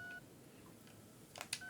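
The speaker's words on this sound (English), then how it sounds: "You receive a message on your phone" A short electronic phone message alert in the flight game Deadstick: a few quick, bright beeps and chimes over a quiet background hum, with no voices.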